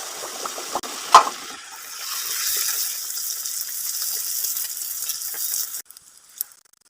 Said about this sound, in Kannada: ಎಣ್ಣೆನಲ್ಲಿ ಈ ರೀತಿ 2 ಕಡೆನೂ ಬೇಯಿಸ್ಕೊಳ್ಬೇಕು